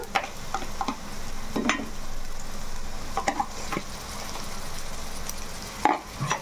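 Ginger garlic paste hits a hot pan and fries with a steady sizzle, punctuated by several sharp clicks and scrapes of a spoon stirring against the pan, close and without speech.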